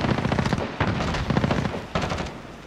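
Rapid AK rifle fire in Call of Duty: Modern Warfare, several close, loud bursts of shots in quick succession with brief pauses between volleys.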